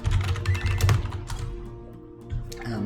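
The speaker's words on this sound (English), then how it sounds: "you can hear me typing" Frantic typing on a computer keyboard while playing Final Fantasy XIV, a dense flurry of close, clattering key clicks with heavier thunks, easing off briefly before resuming.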